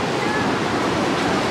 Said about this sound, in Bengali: এটা পুরোটাই উষ্ণ জল হচ্ছে এসে নিচে পড়ছে